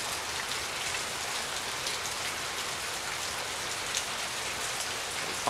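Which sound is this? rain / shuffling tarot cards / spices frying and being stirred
rain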